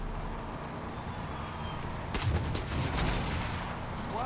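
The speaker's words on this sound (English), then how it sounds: "the guy exploded when I shot him with the shotgun" Shotgun blasts in the co-op shooter Far Cry 5, a short cluster of sharp bursts in the middle over a steady game background of low rumble and hiss.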